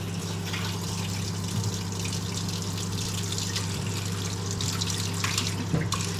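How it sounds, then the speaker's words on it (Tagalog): Cold drinking water is poured at home in a steady, close trickle that runs unbroken for about six seconds over a low background hum. "Inom na lang tayo ng tubig. Tubig na malamig."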